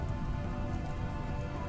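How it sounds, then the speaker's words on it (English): Steady rain pours across a surface in the RimWorld colony game, a dense, even hiss that continues without break and with no voices. "Oh my gosh, rain actually started."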